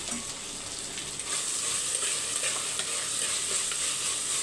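Tomatoes fry in a pan for a South Indian side dish, a constant close sizzle that swells slightly after the first second, with light stirring.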